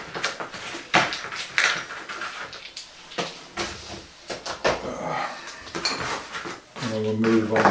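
A pan and cleaning items for maintaining a Singer 201 sewing machine are cleared away, with repeated clanks, clinks and scrapes of metal and utensils under brief talk, ending in a sustained ringing tone.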